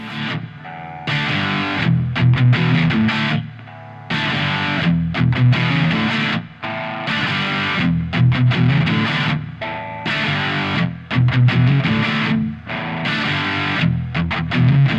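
Electric guitar played through a Fender Shields Blender octave fuzz pedal, thick and buzzy, chugging riffs in choppy bursts with short gaps, loud and saturated throughout.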